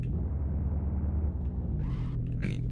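A steady low car exhaust drone from the Bazou in the video game Mon Bazou runs throughout, close and even, with brief hissy bursts of higher noise toward the end.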